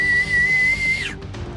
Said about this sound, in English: and he just whistles.